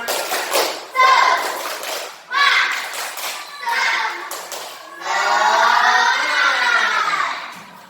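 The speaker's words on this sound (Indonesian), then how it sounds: "Tepuk semangat." A class of children repeats the tepuk semangat spirit clap, rhythmic group clapping punctuating loud chanted phrases in several bursts, ending in a long unison shout, nearby and lively.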